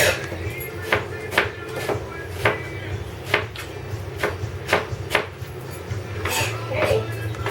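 A knife chops an onion into julienne strips on a cutting board, giving a steady series of crisp, close cuts about every half second over a low background hum.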